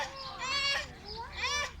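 Two drawn-out squawking calls from chickens, close and fairly loud, with a short pause between them.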